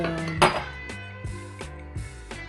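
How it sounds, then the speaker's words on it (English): A utensil clinks and scrapes against a bowl in a handful of ringing strikes while two eggs are mixed into grated potato, close up with no talking. "I'm gonna break 2 eggs inside, then mix all those together"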